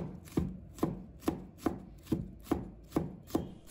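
A knife steadily chops red chili into small dice on a cutting board, about nine evenly spaced crisp taps at a relaxed rhythm, close and clear with no voices.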